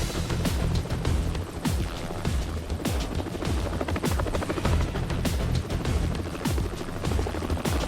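A Cormorant helicopter hovers low above a moving Coast Guard icebreaker, its rotor thudding in a loud, steady rhythmic beat over a roaring wash of engine and rushing air.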